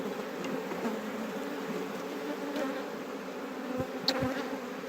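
A dense, steady drone of honeybees buzzes around queenless hives set out in the country, close and continuous, with a few individual bees zipping past nearby.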